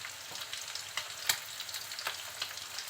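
Ground spice paste of cumin and garlic sizzling in hot oil as it is stirred in a pan, a steady crackling hiss broken by soft scraping strokes and a few sharper taps.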